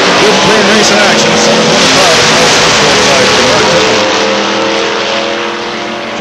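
Drag race cars, including a 1980 Ford Fairmont, launch at London Motorsports Park: a loud, continuous roar of engines and tire noise, sustained and steady before easing slightly, with a voice talking underneath.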